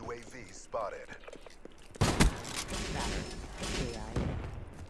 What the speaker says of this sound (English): Was there shots from upstairs?